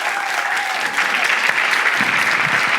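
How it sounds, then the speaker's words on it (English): Audience applause at a live event, a continuous full crowd clapping throughout, steady and fairly close, with a faint tone underneath. "They're applauding, guys."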